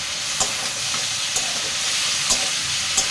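Steady sizzling hiss of food frying in a pan, with a few sharp scraping taps of a spatula at regular intervals, close by.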